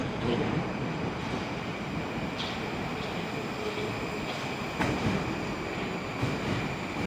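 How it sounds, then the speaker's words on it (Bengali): A Moscow metro train arrives at the station, rumbling steadily nearby with a continuous roar and faint rail clatter, a few brief metallic squeals rising over the noise. "এই যে সামনেই ট্রেন চলে আসছে"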